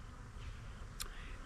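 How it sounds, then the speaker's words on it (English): Honey bees buzz close around a beekeeper's face, a faint, thin hum with one sharper pass up close near the end. "there are bees flying around my face"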